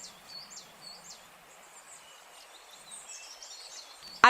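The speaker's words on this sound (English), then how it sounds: "the birds on the Twitch side, they're jamming out too" Birds chirp and whistle outdoors in a quiet, airy scene, with a light scatter of high calls running through the clip and a brief sharp noise at the very end.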